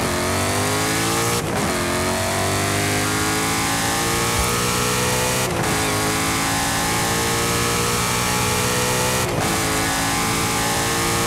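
A 2023 Ford F-150 Raptor R pickup engine revs loudly and continuously in Forza Horizon 5, a sustained rising roar with three sharp shift breaks, close and alone without talk.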